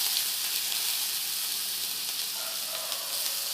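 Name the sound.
crushed ginger and garlic sizzling in oil with cumin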